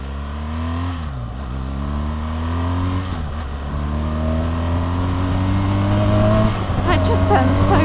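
A motorcycle accelerates hard while being ridden, its engine note climbing in repeated rising sweeps as it shifts up through the gears, loud and steady under wind noise, with people talking over it.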